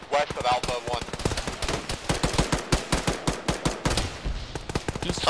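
Rapid automatic gunfire in Arma, a military shooter game, with dense bursts and repeated sharp shots overlapping one another in a steady, loud stream of combat fire.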